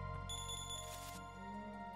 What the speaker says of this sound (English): Ring your little bell.